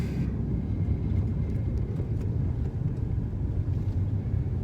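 Blue Alpine car with a 1.8 engine running, a steady low rumble heard from inside the cabin, moderately loud and continuous without distinct revs.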